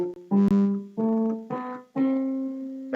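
Electronic piano climbs a rising scale, each note struck separately and held for a moment, close and fairly loud with no talking.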